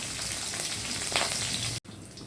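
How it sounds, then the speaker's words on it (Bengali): Nigella seeds, dried chillies, garlic and green chillies sizzle and crackle in hot mustard oil, a dense, steady fry heard close up with a brief dropout near the end. "এবার এগুলোকে 1 থেকে 2 মিনিট হালকা করে ভেজে নেব।"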